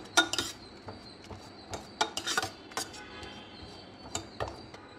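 A metal ladle mashes cooked masoor dal in a pot, making scattered clinks and scrapes against the metal at an irregular pace, close and fairly soft.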